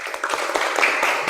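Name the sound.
applause for group 2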